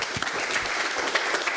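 A small live audience at a casual get-together breaks into brief applause, quick dense clapping close by that holds steady through the moment without anyone speaking.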